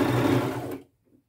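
Sewing machine stitching a flannel shirt sleeve, a short steady whirring run close by that stops abruptly, leaving near silence.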